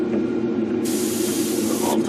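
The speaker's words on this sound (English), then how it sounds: "Spray thinner through it." Thinner sprayed through a paint spray gun nozzle during a back-flush cleaning, a steady loud broadband hiss that starts partway in and runs for about a second before cutting off, over a low constant hum.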